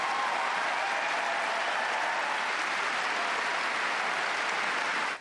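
A large Wimbledon crowd gives a sustained, dense ovation for a coronavirus vaccine maker, loud and even throughout before cutting off abruptly at the end.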